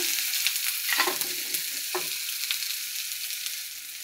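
Onions frying in oil in a pan while being stirred, a constant close hiss of sizzling with a few spatula scrapes and knocks, no voices.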